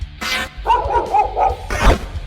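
A blink dog, a magical fey hound, gives a short burst of barking and yipping close up, with a couple of quick yelps in the middle, alone with no talk.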